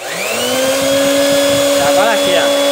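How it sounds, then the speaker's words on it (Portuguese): Blender whirring steadily on an 800 W sine-wave inverter, a loud constant motor drone with a rising whine as it spins up, close to the microphone, with someone talking intermittently over it. "Vou estar ligando aqui o liquidificador"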